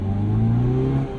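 2022 Hyundai Veloster N with six-speed manual pulling away, a close engine drone rising steadily in pitch as it accelerates, then easing off briefly near the end.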